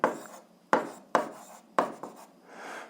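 A pen writes numbers by hand during an 8th-grade algebra exercise, making four or five short, close, scratchy strokes separated by brief pauses in a quiet room.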